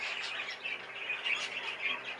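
A Fife canary chirping in a bird shed, a steady run of quiet, high twittering notes with no talk over it.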